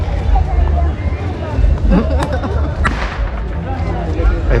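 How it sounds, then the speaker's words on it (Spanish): Firework rockets going off at a busy outdoor market: a couple of sharp distant bangs cut through constant crowd chatter and background hubbub. "Escuchen los cohetes,"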